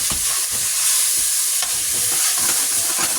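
Food browns in a hot pan with a close, loud, continuous sizzle broken by a few sharp crackles and stirring knocks, and no voices are heard.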